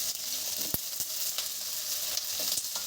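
Potatoes, two medium ones cut up, frying in mustard oil for a curry with jackfruit seeds, giving a steady close hiss of sizzling with a few sharp crackles and spoon clicks, no talk.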